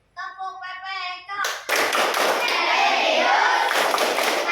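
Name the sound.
class doing the PPK clapping chant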